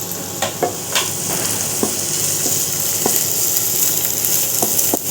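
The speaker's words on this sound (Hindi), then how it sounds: "लो फ्लेम पे इसको थोड़ा बढ़िया से फ्राई कर लेते हैं" Crushed ginger and garlic fry in a pan over a low flame, giving a steady close sizzle with occasional soft clicks of a spoon stirring through it, and no voices.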